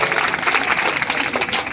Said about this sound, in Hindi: जरा इनके लिए जोरदार ताली बजाकर इनका स्वागत करिए